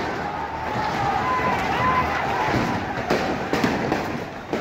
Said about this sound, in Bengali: সঙ্গে সঙ্গেই গুলির শব্দ।